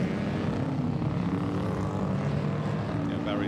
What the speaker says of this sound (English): So our parade is parading. We've got some Manx Nortons that have won the Barry Sheen over the years.